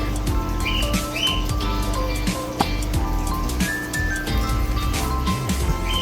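Small caged birds chirp and tweet in short bright calls over a steady background hum, kept indoors beside fish tanks, with no talk over them.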